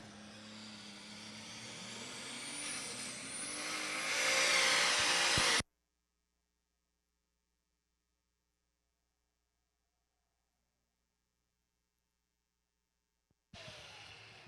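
Super stock tractor engine straining during a pull at an outdoor outlaw pulling event in Manilla, Iowa, a loud sustained roar with a rising whine that builds and then cuts off abruptly, followed by silence.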